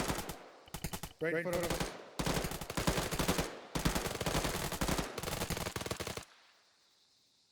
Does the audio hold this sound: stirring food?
no